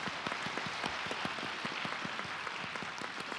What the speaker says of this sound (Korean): 우리 박수로 격려하십시다.